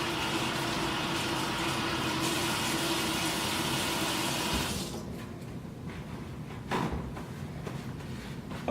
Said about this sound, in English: I like to use antibacterial soap when I wash my hands